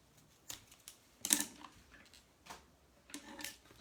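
Fabric being cut while sewing a toiletry kit gives a handful of faint, crisp snips and ticks spaced irregularly, close by, with no talking.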